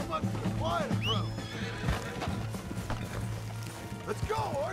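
A horse in the video game Red Dead Redemption 2 whinnies several times with clip-clopping hooves beneath, close and clear amid game voices and battle noise.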